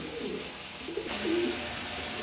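Pigeons coo softly at close range, a short low murmuring call rising briefly over a steady background hiss.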